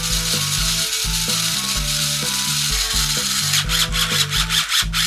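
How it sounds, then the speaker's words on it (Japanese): A Mini 4WD car built on a converted AR chassis runs its motor and drivetrain with the cover on, giving a steady buzzing whir with a rhythmic, stepping mechanical pattern that continues throughout without speech. "またカバーをつけて再度駆動を見ていきましょう。"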